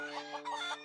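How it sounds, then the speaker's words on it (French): Cartoon hens clucking in a quick, lively burst of squawks, alone and fairly close for under a second. "Fluttershy, tes poules se sont enfuies."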